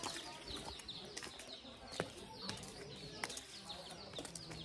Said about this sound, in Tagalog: So, ayan mga kaibon.